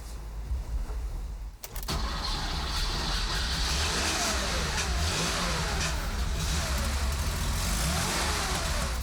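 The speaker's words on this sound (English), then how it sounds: "the sound is of course that classic boxer sound, that typical boxer growl" A Porsche 911 Carrera RS flat-six boxer engine revs hard after a brief pause, its deep, throaty growl sustained and loud close by, rising and falling with throttle.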